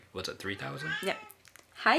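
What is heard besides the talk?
domestic cat meowing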